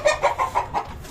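Lohmann Brown hens in a cage clucking in a steady series of five or six soft, close calls, with no talk over them.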